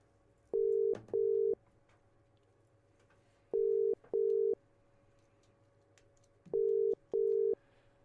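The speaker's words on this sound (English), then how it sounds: "I'm going to try and get Mick Oliver on the phone after their 2-0 win against St Roch's today." A telephone ring tone sounds while a call to a football manager is placed, three clear pairs of steady beeps separated by quiet pauses, loud and alone.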